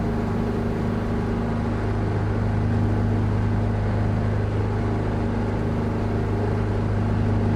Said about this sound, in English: you can actually hear the engine note change slightly as well